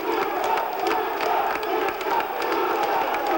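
Boxing fans cheer for Italian amateur boxer Tommaso Russo at a USA vs Italy bout in Pesaro, Italy, a steady roar of crowd noise with shouts and scattered claps filling the arena throughout.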